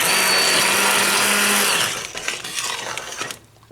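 An immersion stick blender breaking up cooked red beans in a pot: a loud, steady high whirring drone for about two seconds, then a rougher, fluctuating churn as it works through the beans before cutting off.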